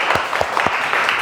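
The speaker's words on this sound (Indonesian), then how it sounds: "Ya, tepuk tangan." Short burst of classroom applause from a group of young students, quick uneven claps close by for about a second, with no voices.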